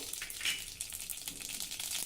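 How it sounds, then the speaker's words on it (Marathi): Mustard seeds crackle and sizzle in hot ghee, a quiet steady frying hiss with small rapid pops. "तूप चांगलं गरम झालं आता यामध्ये थोडी मोहरी घालू"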